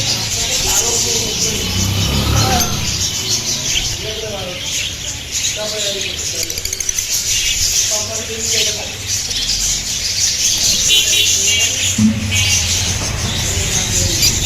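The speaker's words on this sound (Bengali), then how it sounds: "এই দেখুন লাভবার পাখিগুলো কত সুন্দর লাগছে" Lovebirds chirp and tweet in short repeated bursts amid busy background noise at a bird shop, with a voice talking intermittently.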